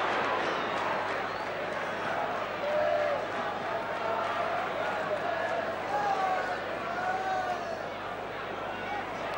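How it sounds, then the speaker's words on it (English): A 1975 Burnley football match crowd roars and murmurs steadily, a dense loud wall of voices with occasional whistles rising over it, while a commentator talks throughout. "Crowd not happy with that one."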